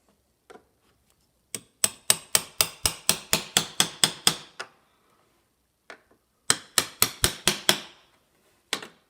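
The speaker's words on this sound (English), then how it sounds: "You are hammering into glass." Sharp, ringing hammer taps drive nails while fitting a stained glass panel, in two quick rhythmic bursts of about a dozen and five blows, with a few isolated taps between, close and bright.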